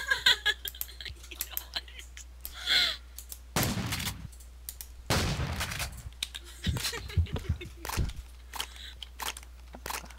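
Shotgun blasts in the Minecraft Jurassicraft mod, a few loud, broad bursts spaced irregularly with crunchy game effects and brief noises between them.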